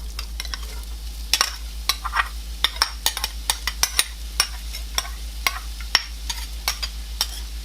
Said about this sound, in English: Next, we're going to add our chopped onions.